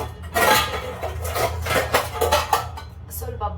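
Freshly washed kitchen dishes and utensils clatter and clink as they are stacked and put away, in a busy run of close, uneven knocks and rattles.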